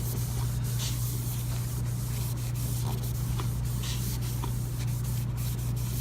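Rubbing alcohol being wiped by hand across a surface to clean it before sealing with silicone, a steady close rubbing and swishing with a constant low hum underneath and no talking.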